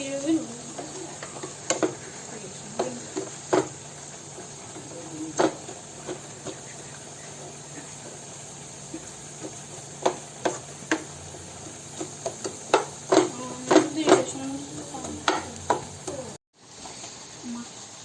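Prawn masala sautés in a pan for a prawn roast, with a steady low sizzle and scattered sharp scraping and tapping clicks from stirring, growing busier toward the end before a brief cut.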